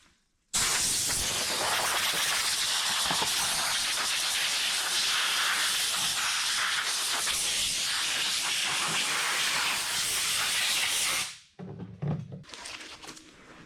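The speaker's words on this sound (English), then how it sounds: "We're going to re-blow with air." A loud, steady blast of compressed air roars almost without a break for about eleven seconds while grime is blown off the exhaust manifolds of a 1960 Morris Minor, then cuts out abruptly and leaves a few faint rustles and clicks.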